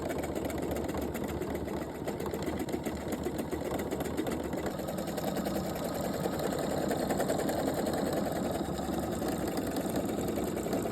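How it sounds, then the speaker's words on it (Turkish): A PFAFF sewing machine stitches steadily with a pintuck decorative presser foot, its fast, even mechanical whirr running unbroken and fairly close throughout with no talking. "Adı üstünde nevri süs dikiş ayağı."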